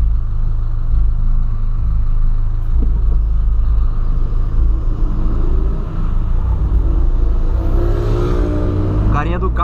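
A Volkswagen Polo drives along a road, its engine and tyre rumble steady and close from inside the cabin, with someone talking over it throughout.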